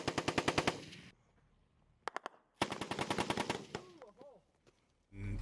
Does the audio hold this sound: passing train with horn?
no